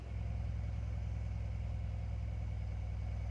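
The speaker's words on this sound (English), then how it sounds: "This is what it sounds like when it's open." Mercedes C63 S Cabriolet V8 idling with exhaust valves open, a loud, continuous deep burble with a steady throbbing pulse, close by and unbroken.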